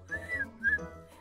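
A short, wavering whistle in two breathy phrases, close and fairly quiet, sliding in pitch.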